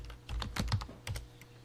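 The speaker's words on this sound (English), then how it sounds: "We would type the host name." Keys clatter on a computer keyboard as a host name is typed into a server terminal, a quick run of close, crisp clicks in short bursts with brief pauses between.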